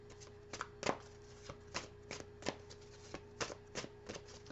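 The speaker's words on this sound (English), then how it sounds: "that was a crazy shuffle" A deck of tarot cards is shuffled by hand, a quiet series of sharp riffling and slapping bursts in an uneven rhythm, close and soft, with no talking.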